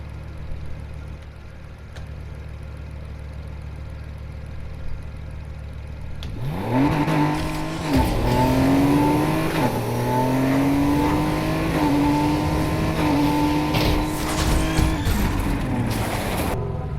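A drag race car in the video game NFS Heat launches and accelerates hard after a quiet idle, its engine note climbing through several gear shifts, loud and close with no talking.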